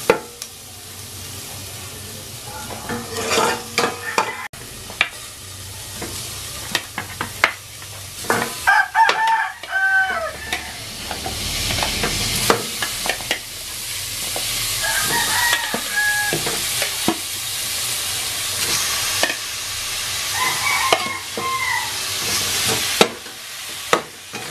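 Beef sizzles and fries in a pan while it is stirred, with irregular scraping and clattering strokes over a steady hiss. Louder bursts come and go throughout, and no one speaks.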